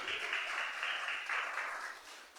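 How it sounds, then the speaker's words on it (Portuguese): A church congregation applauds during a worship service, a soft, continuous wash of clapping from many hands at a distance, steady for a couple of seconds. "aplaude o nome do Senhor"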